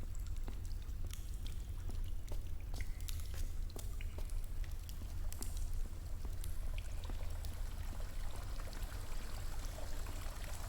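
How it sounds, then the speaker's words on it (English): Water pours down steadily in the game Chants of Sennaar, a continuous rushing, splashing stream with scattered droplet patter, unbroken and fairly loud for the whole stretch. "blocked by the water pouring down there"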